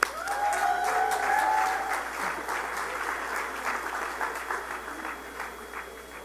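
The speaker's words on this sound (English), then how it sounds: "Please give him a round of applause." Audience applause for a panel moderator at a congress, a full, sustained burst of many hands clapping that peaks early and slowly tapers, with a brief tonal whine near the start.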